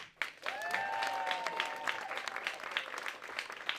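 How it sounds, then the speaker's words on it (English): A stand-up comedy audience applauds loudly and steadily for several seconds, dense clapping filling the room with a few voices whooping and cheering over it. "Give yourself a round of applause."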